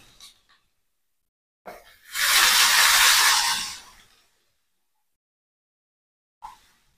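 Small onions hitting hot oil in a pan for a South Indian curry: a sudden, loud sizzle that lasts about two seconds and then fades into quiet.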